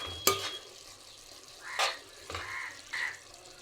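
A spoon stirs cauliflower and dried shrimp curry with fresh coriander in a pan, making a few brief scraping and clinking strokes against the metal over a faint, quiet sizzle, with no talking.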